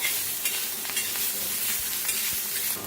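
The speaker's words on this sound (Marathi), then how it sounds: "तर मिरच्या छान भाजले त्या" Green chilies roast and sizzle in hot oil in a pan with a little coriander, a steady close frying crackle with faint stirring scrapes and no voices.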